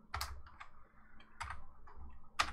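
Close, quiet keystrokes on a computer keyboard as a printer-firmware command is typed, a handful of separate clicks with a low hum beneath and no speech.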